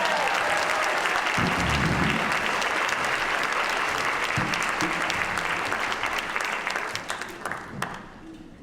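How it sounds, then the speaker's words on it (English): A music camp audience gives a loud, sustained round of applause in a hall, the dense clapping holding steady before tapering off near the end. "give them a round of applause one more time"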